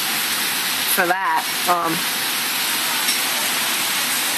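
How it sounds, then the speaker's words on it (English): Heavy rain pours in a broad, steady hiss during a thunderstorm in New York City, loud and continuous, with someone speaking briefly over it. "I am really surprised how much rain it is."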